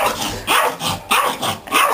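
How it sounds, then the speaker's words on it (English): A dog barks in a quick run of about five sharp, loud, closely spaced barks, each cutting off briefly before the next, with no speech over them. "This is a dog."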